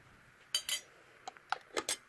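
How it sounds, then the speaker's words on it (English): A metal canning lid set onto the rim of a glass jar of Thai hot and sweet dipping sauce, giving a few quiet, close metallic clinks and taps spaced over a couple of seconds with no talking. "Going to put the lid on."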